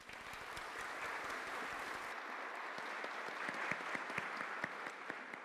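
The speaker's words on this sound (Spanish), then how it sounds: "Le damos un aplauso." Audience at a cybersecurity and digital awareness event applauding a speaker, a steady, dense wash of clapping from a sizable crowd with individual claps standing out near the end.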